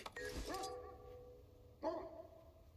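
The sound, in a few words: dog barking on command in Guild Wars 2 video game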